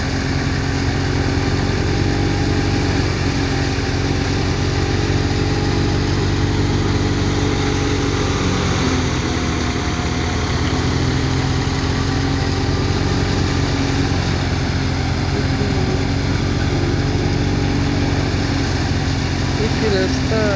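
Wheat thresher running in 45-degree heat, its engine and drum producing a loud, steady droning rumble throughout with continuous mechanical churn and no pauses.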